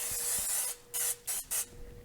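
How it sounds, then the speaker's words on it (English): Cooking spray hisses into an Instant Pot in a few short bursts, a longer spray first and then three quick puffs, close and crisp with no talking. "with a little bit of cooking spray"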